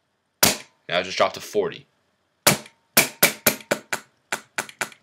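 A Polar Star EPAR paintball marker fires repeatedly to bleed air from the hose, with sharp close shots first spaced, then coming in quick succession; someone speaks briefly between the first shots.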